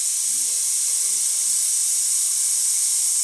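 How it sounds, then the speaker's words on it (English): Steam wand on a Breville Dual Boiler espresso machine hissing steadily and loudly on its own, a constant broad rush with no pauses. "So let's start with the steamer."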